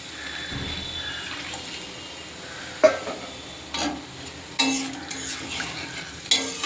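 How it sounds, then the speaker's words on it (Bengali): Water poured into a hot pan for a fish curry hisses and bubbles, with a few stirring scrapes and utensil clinks close by in a quiet kitchen. "জলটা দিয়ে দিলাম, আর একটু জল দেবো"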